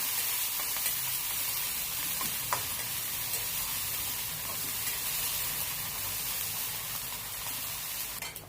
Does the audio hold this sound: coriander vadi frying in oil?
yes